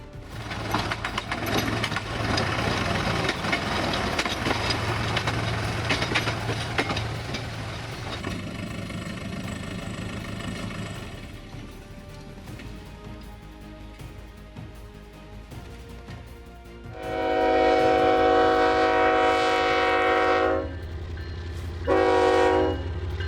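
A railway locomotive ploughs through a snowdrift with a long, heavy rushing roar of engine and snow, then settles into steady running before loud sustained horn blasts sound twice near the end.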